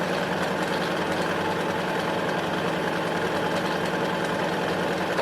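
A sewing machine stitches fabric around a square while piecing a quilt, giving a steady, close, continuous motor whir and needle chatter that runs unbroken with no talking.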